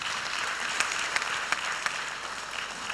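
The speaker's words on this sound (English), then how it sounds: "let's give them a round of applause" A forum audience at the close of a Sahel governance gathering claps together, a steady wash of applause with a few sharper individual claps standing out above it.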